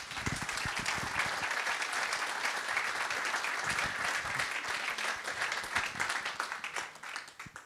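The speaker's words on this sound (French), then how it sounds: "Je vous demande de les applaudir." Applause from the audience at a public meeting in Anglet for donors to the Pignada forest's restoration, sustained even clapping from a sizable crowd at moderate distance, thinning out at the end.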